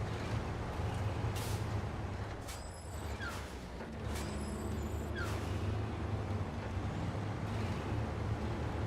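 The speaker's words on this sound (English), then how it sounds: "It's got cool sounding brakes." Air brakes on a heavy vehicle in a PS5 driving game hiss in two sharp releases over a constant low engine rumble, with squeaky mechanical creaks along the way.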